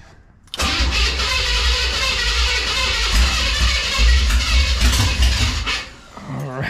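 A classic car engine cranks briefly, catches and roars into a loud, steady run close by, then dips and picks up again near the end.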